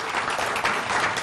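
An audience claps steadily for a speaker at a Marine Corps event honoring Major General Ronald L. Bailey, a dense, even wash of applause throughout.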